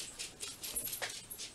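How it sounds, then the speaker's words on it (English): Pet dogs playing together let out faint, high whimpers and soft yips in quick irregular bursts, close by and quiet. "My dogs are playing."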